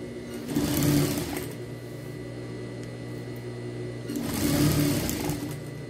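A sewing machine stitches closed a beach towel bag in two close, loud bursts of steady motor hum about three seconds apart, with a quieter idle hum between them.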